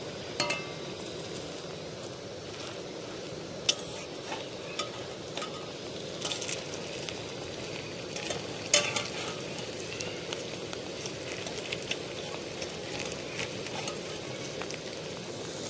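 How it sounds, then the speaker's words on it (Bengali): Steady crackling sizzle of radish pakoras deep frying in oil over lowered heat, with occasional sharper pops and faint clinks, continuous throughout with no voices. "এই পকোড়াটা ভাজার সময় কিন্তু জালটা একটু কমিয়ে দিতে হবে"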